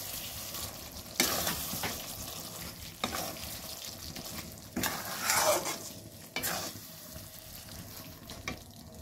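Chicken with coriander and green chili paste gets stirred in a pan, with a quiet sizzle under intermittent scraping and wet mixing strokes that come in uneven bursts, nearby and without talk.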